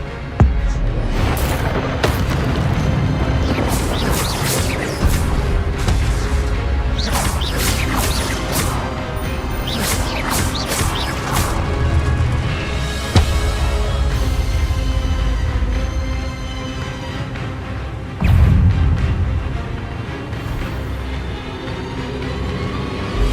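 Spell effects burst in Hogwarts Legacy as a duel plays out. Crashes, whooshes and impacts come in dense, loud clusters, with a heavy hit near the end.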